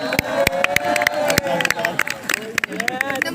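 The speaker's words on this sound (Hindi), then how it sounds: "तो जोरदार तालियों से स्वागत कीजिए" Audience at a college opening ceremony clapping in a lively, uneven burst of applause, with crowd murmur and a speaking voice mixed in, fairly close.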